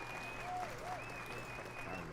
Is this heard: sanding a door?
no